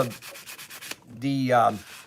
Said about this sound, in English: we're just going to kind of just give it a little bit of a sanding down here